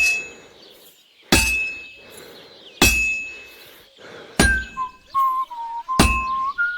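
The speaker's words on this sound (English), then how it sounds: "if it was all about hitting an anvil with a hammer, any dolt could do it" A blacksmith's hammer strikes a workpiece on an anvil in Kingdom Come Deliverance 2, four sharp ringing clangs spaced evenly about a second and a half apart, each leaving a metallic ring behind it.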